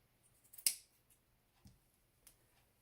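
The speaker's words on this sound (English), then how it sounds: "you're going to cut this part here" Scissors make a sharp, quiet snip through yarn while making a yarn doll, followed by a couple of fainter clicks in a silent room.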